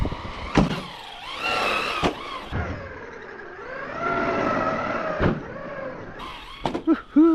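An Arrma Big Rock 223S RC truck runs on snow, its electric motor whining and surging up and down in pitch with sharp knocks and clatters as it moves, fairly close and continuous.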